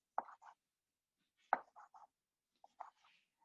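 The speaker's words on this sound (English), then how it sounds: "I'm just chopping my onions. I'm sorry, my tomatoes." Tomatoes being chopped with a sharp knife on a kitchen board: three quick clusters of crisp cutting taps, each a sharp chop followed by a couple of lighter strokes, close and clean with no voices.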